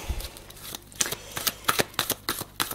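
Tarot cards being shuffled for a reading, a run of crisp riffling bursts and soft slaps coming in a steady rhythm of about two per second, close and fairly quiet, with no talking.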